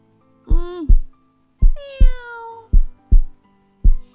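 A small cat meows several times close by, a mix of short chirps and one longer drawn-out mew, spaced with soft low thumps between them.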